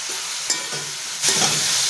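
Tomatoes sautéing with salt in a pan for a vegetable-free curry, giving a steady close sizzle with brief scraping stir strokes and a louder burst of frying near the end, no talk.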